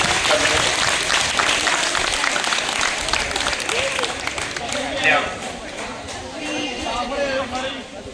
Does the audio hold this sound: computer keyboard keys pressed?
no